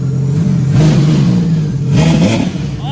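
A 300-horsepower mini jet boat engine rumbles loudly close by, its pitch rising and falling in a couple of short revs with a rough, clattering edge.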